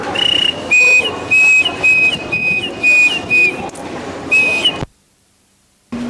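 Shrill steam train whistle blasts in a series of repeated short and long toots, loud and close, ending in a sudden silence before a brief low rumble.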